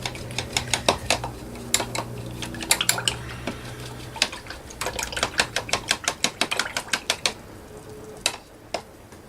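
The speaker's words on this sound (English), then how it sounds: "I'm going to wash my brush for that." A paint brush swished and tapped in a water jar while working on an art journal page: a rapid run of sharp clinks and splashy rattles, close and fairly loud, with short pauses between bursts.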